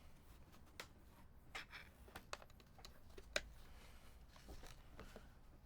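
Quick irregular keystrokes clack on a mechanical keyboard with 45 gram domes on a hybrid PCB, close and fairly quiet, with sharp taps and small bursts and no talking.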